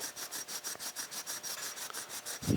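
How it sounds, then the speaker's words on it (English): A wood-grain steering wheel for a 1956 Chrysler 300 is hand-polished with quick, even back-and-forth rubbing strokes, close and steady, ending in a brief soft thump. "polishing the rest of this out"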